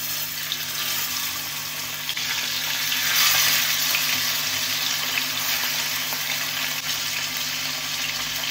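Marinated fish fries in plenty of hot oil, a loud, continuous sizzle that flares briefly partway through and keeps crackling steadily to the end, with no talking.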